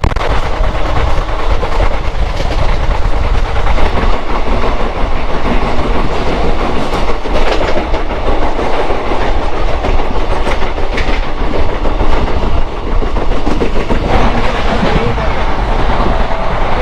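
A Kolkata–Digha passenger train runs at speed, a loud, steady roar of wheels on rails with rhythmic clickety-clack and rattling carriages heard from inside, continuous throughout.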